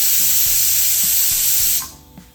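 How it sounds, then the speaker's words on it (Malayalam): Pressure cooker on a gas stove venting steam after its whistle, a loud steady hiss that cuts off abruptly near the end, leaving faint kitchen clatter. "ആവി വന്നു, ഗ്യാസ് വന്നത് വിസിൽ വന്നു"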